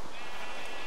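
Sheep bleating in the Minecraft video game, a short, steady electronic-toned bleat filling the whole moment at moderate loudness, with no talk over it.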